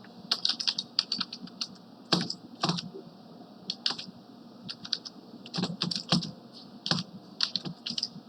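Computer keyboard typing while writing embedded IoT microcontroller code: close, irregular bursts of keystrokes with brief pauses between them and no talking.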